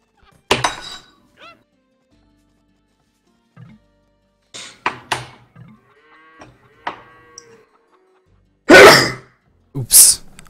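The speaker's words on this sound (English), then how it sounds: "That was a nice sneeze." A single loud, close sneeze bursts out during Age of Empires tournament commentary, with a second short burst just after and scattered quieter game sounds such as cattle lowing before it.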